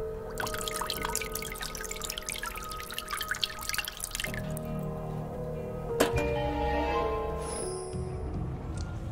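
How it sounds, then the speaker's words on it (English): Potion poured into a bottle in a Halloween-themed adventure game, a continuous trickle of liquid with bright dripping plinks, then a clear glassy clink and softer filling sounds, no talking. "Pour the potion into the bottle."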